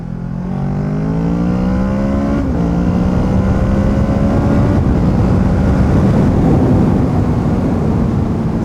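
A Kawasaki Z650 twin-cylinder motorcycle with an Akrapovic exhaust pulls hard through the gears, its loud, close engine note climbing in pitch, dropping at each shift around every couple of seconds, then rising again with no talk.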